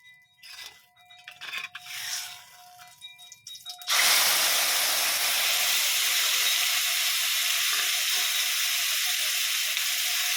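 Sambal mixed with tempeh hits hot oil, bursting into a loud, steady sizzle that runs unbroken after a few seconds of quieter kitchen clatter.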